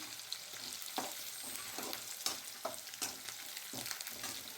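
Peanuts are stir-fried in a pan for Khandeshi-style eggplant bharit: a soft oily sizzle runs throughout, broken by rhythmic scraping stirs roughly once a second, close up and without talk.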